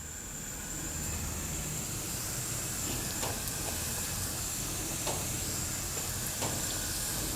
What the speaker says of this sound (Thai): เราก็นำปาตังโกของเราใส่ลงไปทอดเลยครับ